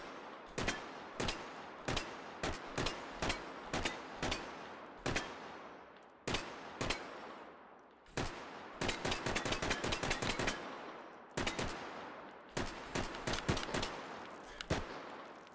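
A CZ806 Bren2 rifle fires in the VR game Hot Dogs, Horseshoes and Hand Grenades, sharp loud cracks in single shots and quick rapid bursts with short pauses between strings.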